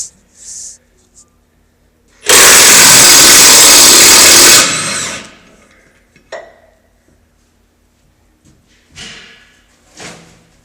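A power tool whines loudly for about two seconds while removing screws from a Supreme 1200T mixer, surrounded by scattered clanks and knocks of metal parts before and after.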